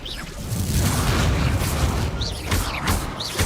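A fire spell cast in Hogwarts Legacy combat erupts as a sustained, loud rumbling boom of flame, followed by several sharp crackling bursts and whooshes in the second half.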